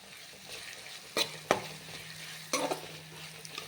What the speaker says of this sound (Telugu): అవి వేడుతున్నప్పుడు ఉల్లిపాయలు కూడా వేసుకుంటాం కొద్దిగా కరివేపాకు కూడా యాడ్ చేసుకున్నాను